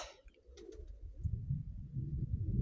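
A dove coos softly in low, rolling tones, with a few faint chirps and background noise around it.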